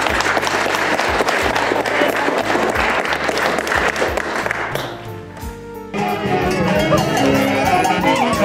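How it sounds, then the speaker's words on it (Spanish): Applause and cheering from a congregation honouring the newly baptized at a church baptism in San Juan de Jarpa, dense clapping with crowd noise before a brief lull and renewed clapping. "A ver, fuertes aplausos por los bautizados."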